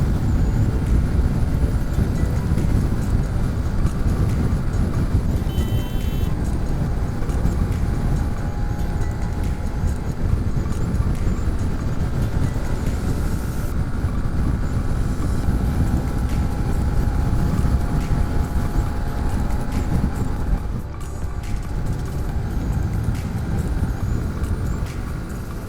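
A motorcycle cruises at 80 to 100 km/h on a long Manali to Pune highway ride, making a constant loud roar of engine and rushing wind that continues unbroken for the whole stretch, with no talk.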